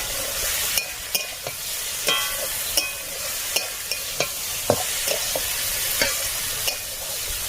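Food frying on a stove beside boiling rice, a steady close sizzle broken by repeated sharp clicks and scrapes of a spatula stirring the pan, with no talking.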